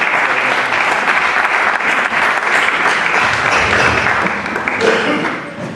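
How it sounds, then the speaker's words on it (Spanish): An audience at a film festival presentation bursts into loud, sustained applause, a dense wash of many hands clapping with some voices mixed in toward the end. "Un aplauso, por favor."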